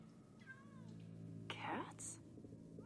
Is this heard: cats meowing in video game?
yes